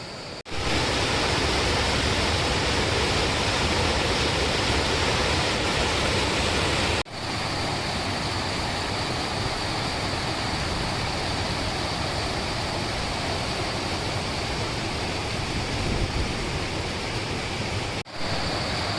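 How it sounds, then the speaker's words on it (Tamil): Rainwater pouring step by step over the steps of Chitteri lake in Chennai, a loud unbroken broadband rush of flowing water with two brief cuts in the sound. "ஸ்டெப் பை ஸ்டெப்பாக ஒரே ஃப்ளோவில் போகிற தண்ணியை பாருங்கள்."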